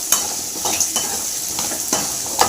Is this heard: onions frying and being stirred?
yes